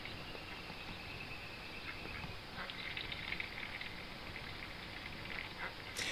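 Ducks splash and play in water, with a steady wash of broadband water noise and soft scattered quacks throughout, a sharper burst near the end.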